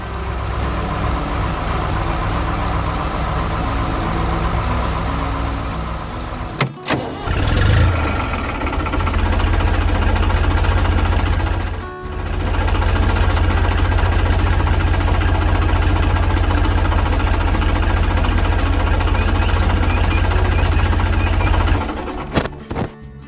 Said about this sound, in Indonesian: tiba-tiba terdengar suara mesin yang menari-nari